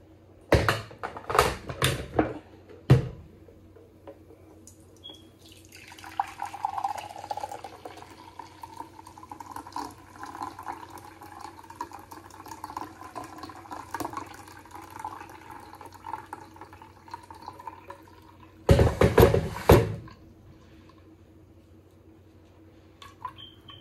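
Pomegranate juice trickles through a strainer in a thin, steady liquid pour lasting several seconds, bracketed by short clattering knocks of a kitchen utensil at the start and near the end, fairly quiet overall.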